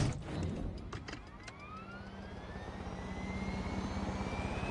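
A helicopter in the Far Cry 6 video game roars with a dense, steady engine and rotor wash, a rising whine building over several seconds with no talk.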